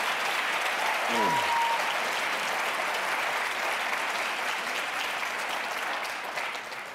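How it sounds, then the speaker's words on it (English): Sustained applause from a crowd at a Virginia Attorney General debate, steady clapping throughout and tapering slightly at the end. "give them both a real round of applause"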